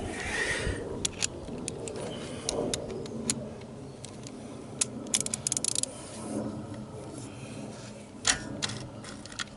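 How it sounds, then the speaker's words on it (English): A 14mm wrench working the crank bolt on a cheap Sunl ATV engine, giving scattered sharp metallic clicks and clanks over a low room rumble, close and irregular, with no talking. "what you're doing now is turning over the crank bolt, attempting to turn over the crank bolt"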